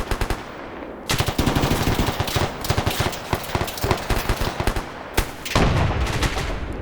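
Sustained bursts of automatic suppressive gunfire in an Arma 3 large-scale PvP battle, loud and dense rapid volleys with brief pauses, no talking.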